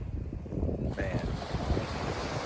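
Wind buffets the microphone on a sandy coast near dunes and a bay, a rough, gusty rush with low rumble, joined faintly by surf.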